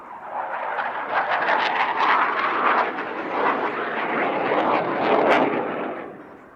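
A Dassault Rafale fighter jet flies a display at an airshow, its engine a loud, rough, crackling roar that holds steady for several seconds before easing off.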